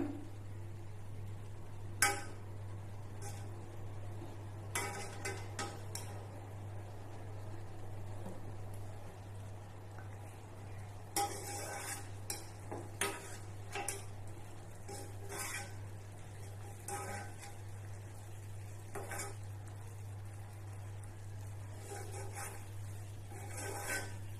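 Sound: spoon skimming foam off boiling sugar syrup in pan

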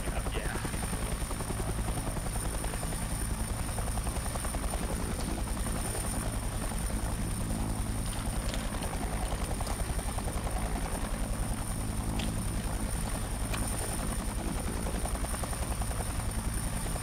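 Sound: Chinook helicopter flying in a video game

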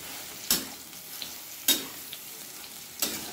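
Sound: soaked soybeans frying in desi ghee

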